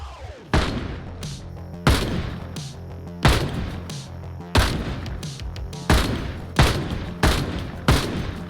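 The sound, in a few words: gunshots shooting zombies in the video game Project Zomboid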